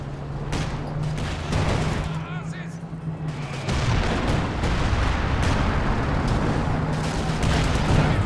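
Base howitzer artillery fire in Company of Heroes 2, a 2v2 match, with repeated heavy booms and battlefield rumble under constant voice chatter and a steady low hum.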